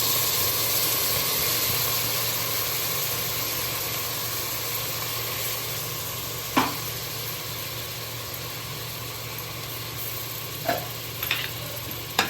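Ginger garlic paste sautéing in coconut oil with curry leaves for a chicken gravy, a steady broad sizzle close by, with a few sharp clicks of a utensil against the pan near the end.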